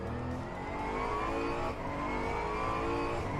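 GT3 race cars at Norisring in a sim race, engines howling at high revs with a continuous layered drone and slight pitch changes, close and steady with no talk.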